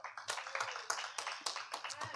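A church congregation claps in a sparse, uneven patter during a live-streamed service, fairly faint and distant, with a voice talking over it.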